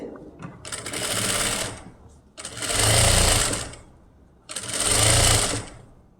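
A sewing machine stitches a lined blouse in three rapid bursts of mechanical clatter, each lasting about a second and a half, separated by short pauses.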